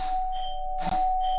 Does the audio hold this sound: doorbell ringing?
yes